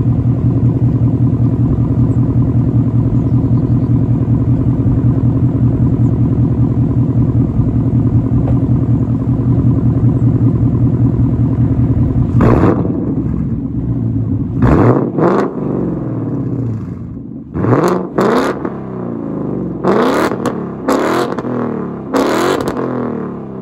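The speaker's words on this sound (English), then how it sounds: "I'm going to get a couple revs in for y'all so y'all can hear it" A 2019 Ford Mustang GT V8 with louder-than-stock exhaust idles with a loud, deep rumble, then snaps out several sharp revs in quick succession, each rising and dropping back, up close.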